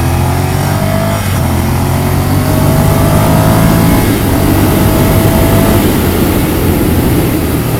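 A red 2018 Ducati Monster 797 Plus motorcycle engine roars loud and close, a continuous throaty drone with rising and falling revs and no talking.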